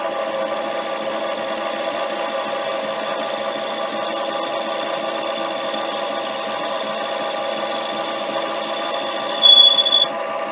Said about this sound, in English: the tap drill has less work to do and is more likely to cut a properly sized tap hole